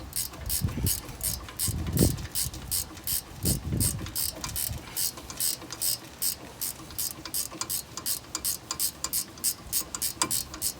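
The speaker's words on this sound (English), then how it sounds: "Then we'll tighten it up with the ratchets. Remember, these are 17mm" Ratchet wrench tightening 17mm brake caliper bolts on a 2005 Honda Pilot, a fast even clicking that runs throughout, up close, with some low thuds and handling noise early on.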